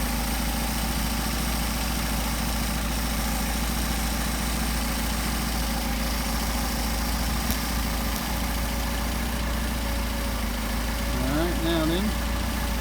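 An engine fitted with Solex 44PHH carburetors idles steadily at about 750 rpm, a constant low rumble throughout, with a voice speaking briefly over it near the end.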